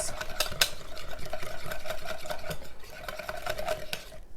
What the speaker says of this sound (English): So here we have our eggs in here. Just gonna go ahead and break those up.